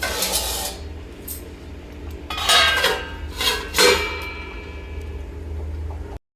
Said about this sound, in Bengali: আমি নুনটা দিয়ে আরেকবার ঢাকা দিয়ে দিচ্ছি।